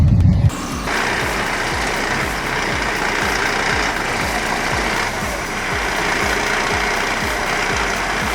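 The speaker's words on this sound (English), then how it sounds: "The 480 engine provides plenty of grunt to haul massive logs out of the woods without breaking a sweat." A logging truck with a 480 engine hauls a heavy load of logs up an incline in the woods. Its deep engine labours in a steady, loud rumble with rhythmic low pulses throughout.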